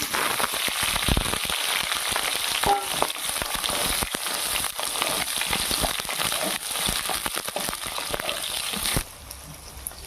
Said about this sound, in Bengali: এবার করে নিয়ে দেবো 5 ফোড়ন, দিয়ে দেবো বেগুন,